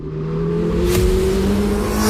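Kawasaki Z900 2017 motorcycle engine running steadily nearby, a smooth, refined even drone with a brief rise in revs partway through, heard alone without talk.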